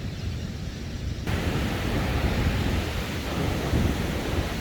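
Ocean surf at Surfers Paradise beach in Queensland pours out a dense, steady roar of breaking waves that swells slightly partway through, with no voices over it.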